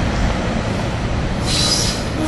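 Commuter train 585 pulling out toward Thorndale near Paoli, a loud, close, steady rumble of wheels on rail, with a high wheel squeal rising partway through.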